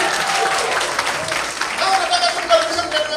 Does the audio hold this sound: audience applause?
yes